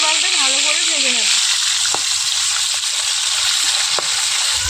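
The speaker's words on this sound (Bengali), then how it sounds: "মাছগুলো উল্টো পাল্টে ভালো করে ভেজে নেব।" Pieces of catla fish fry in hot oil with a constant loud, hissing sizzle, broken by a couple of sharp clicks as the pieces are turned. A brief whistling tone rises and falls at the start.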